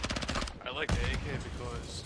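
AK rifle fire in a video game: loud, close bursts of rapid automatic shots at the start, a second volley around the middle and a last burst at the end.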